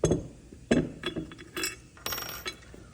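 Metal snowmobile clutch weight parts clink and clatter in a few sharp, close bursts as a nut and bolt are removed by hand, with short pauses between the knocks.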